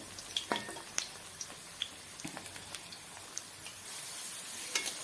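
Small potatoes frying in a pan alongside meat, a steady soft sizzle with scattered crackles and pops, close and fairly quiet, growing into a denser hiss toward the end.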